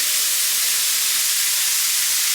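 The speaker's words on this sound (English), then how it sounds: "now to this pan I'm going to add my tomatoes" Tomatoes sizzle as they hit a hot pan for a courgette, pepper and chorizo bake, a steady broadband hiss and crackle held throughout with no talk.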